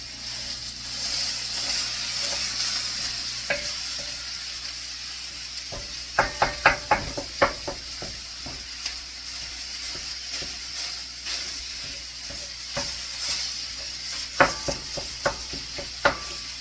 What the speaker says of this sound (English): I'm gonna just kind of break up the sausage real quick.